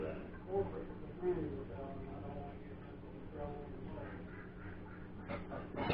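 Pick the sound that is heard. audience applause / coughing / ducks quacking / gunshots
ducks quacking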